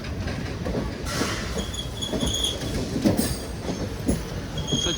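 Chennai Egmore–Puducherry Express train rolling past, steady rail rumble with faint wheel squeal and clattering beneath, no voices.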